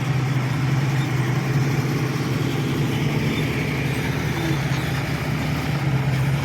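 A car engine idles with a loud, throaty exhaust rumble, steady and close, with no voices over it.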